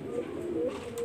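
Pigeons cooing softly, a few low drawn-out coos close by over a steady background hum, in a pigeon breeding loft.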